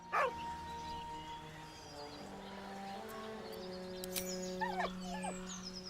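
A dog in the video game Baldur's Gate III gives a few short yips and whimpers at a low level, mixed with soft game music and chimes.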